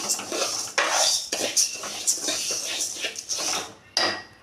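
Black urad dal with skin dry-roasted in a pan over medium heat, stirred with a metal spoon that scrapes and clatters against the pan in repeated close strokes.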